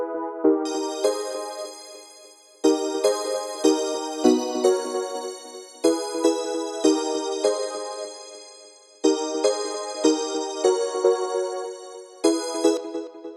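Bright synth chords built in Ableton Live ring out in sustained, bell-like stabs, each chord sounding with a clear attack and fading tail, a series of chord changes heard alone and close.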